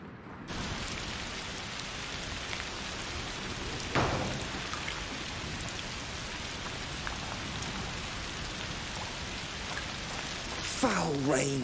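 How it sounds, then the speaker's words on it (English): Steady rain pours throughout a scene in the video game A Plague Tale: Requiem, a dense continuous hiss with a brief louder swell near the start and a faint tonal sound at the end, with no talk. "Foul rain."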